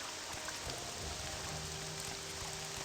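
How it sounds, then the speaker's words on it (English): Steady moderate rainfall patters across surfaces in the Morrowind video game, a continuous soft hiss with faint drops and no voices. "It is raining and I am 2 days into the game."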